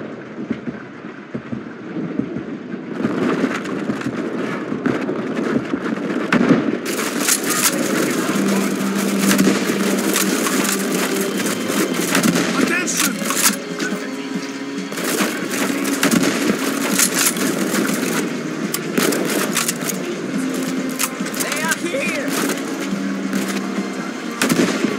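Sustained, loud gunfire in the war video game Land of War, dense rapid bursts and cracks running throughout with barely a break, voices shouting in the middle of the firefight.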